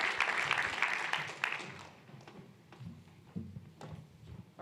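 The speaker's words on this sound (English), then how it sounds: "So another round of applause, please." Audience applause at a Rust programming conference in Wellington, a dense burst of clapping that fades out within a couple of seconds, leaving scattered light thumps and shuffles.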